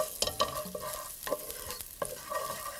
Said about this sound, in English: So I'm just going to place the garlic into the pan.